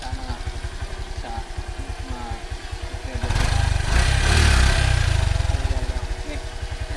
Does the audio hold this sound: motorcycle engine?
yes